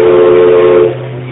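Steam whistle of the Mark Twain riverboat, one loud, sustained, steady blast heard close by, holding strong before dropping in level near the end.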